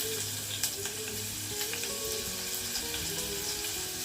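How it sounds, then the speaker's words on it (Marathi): Garlic and finely chopped onion sizzle in hot oil, a soft continuous crackle with a few light clinks from the pan, quiet and close. "तर तेल तापलेलं आहे याच्यामध्ये मी आधी लसूण टाकते त्यानंतर हा बारीक चिरलेला कांदा"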